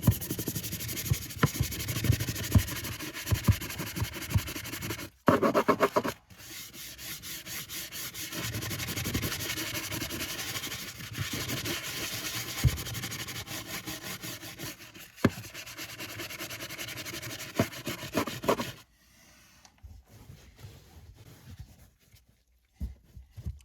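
A leather brush scrubs cleaning gel into the pedals of a 2018 Audi SQ5, a steady close rubbing and scratching that runs for most of the stretch, with brief pauses and quieter handling at the end.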